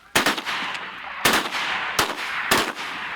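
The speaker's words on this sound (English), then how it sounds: "Shoot it, Boone." Four sharp gunshots ring out while hunting in Canada, loud and close, spaced unevenly across a few seconds with short echoing decay after each, and no talking over them.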